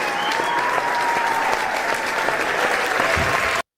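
A crowd applauds at a Mali Independence Day celebration, steady dense clapping that continues at full strength throughout and then cuts off abruptly.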